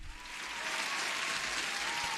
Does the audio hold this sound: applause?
yes